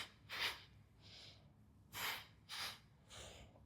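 Breath sounds during a yoga twist: a sharp exhale, a softer inhale, then two more strong breaths and a fainter one, close and airy, alone with no talk.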